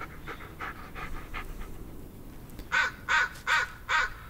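A dog in the Blair Witch horror video game pants, first in quick faint breaths, then in four loud, evenly spaced bursts close up.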